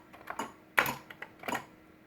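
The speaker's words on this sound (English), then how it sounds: "Typing one-handed sure is a challenge." A few scattered, uneven keystrokes are typed one-handed on a computer keyboard, each a sharp, close click with short pauses in between.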